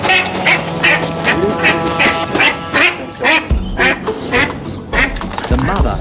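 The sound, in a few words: mother duck and ducklings quacking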